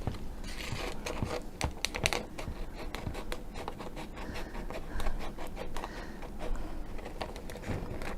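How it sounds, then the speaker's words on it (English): Close, crisp snipping and scratching as scissors cut through parchment paper in quick, irregular strokes. "I love that sound, cutting through parchment."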